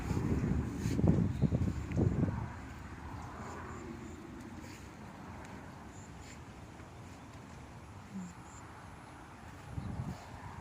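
Strong wind blows outdoors in a pesticide-free eggplant garden, buffeting the microphone with a heavy low rumble for the first couple of seconds, then easing to a steadier, softer rush with occasional gusts.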